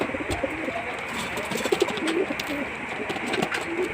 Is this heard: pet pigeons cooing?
yes